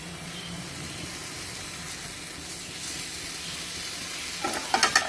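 Butter added to chicken shashlik in a hot pan gives a steady, close hiss and sizzle, with a few louder crackles and spatters toward the end.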